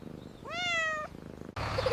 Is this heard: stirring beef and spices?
no